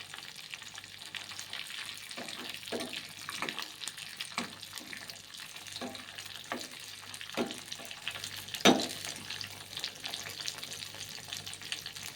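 Whole spices such as cumin crackle and fry in hot oil for Andhra-style gongura dal, a steady close sizzle broken by periodic stirring scrapes and one sharp clink, with no talking.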